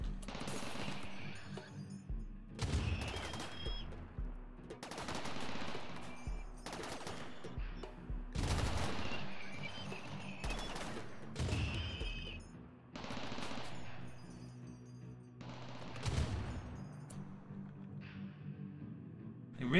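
Bursts of automatic gunfire and sharp single shots in RimWorld erupt repeatedly through a firefight against mechanoids, loud and close, with brief gaps between volleys and some voices and game sounds mixed in.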